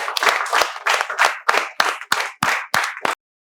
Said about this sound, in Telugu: మీకు స్వాగతం చెప్తున్నాము చప్పట్లతో.